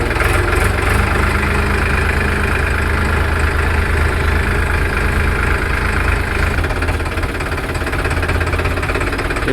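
A tractor engine runs loud and close for the whole stretch, a constant heavy chugging rumble with a rapid knocking pulse and no let-up.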